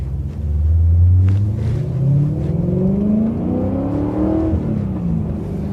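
A BMW E92 M3 with an aftermarket exhaust drones and rumbles loudly from inside the cabin while driving, the engine note rising steadily through the gear as it accelerates, with no talking.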